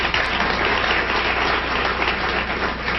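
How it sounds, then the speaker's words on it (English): A studio audience at a 1979 television talk show applauds in a steady, even wash of clapping for three seconds, with no voices over it. "That's 1979 on the Phil Donahue Show. The people are applauding."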